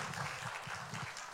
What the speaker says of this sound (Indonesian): kita kasih tepuk tangan dulu Bapak Ibu semua.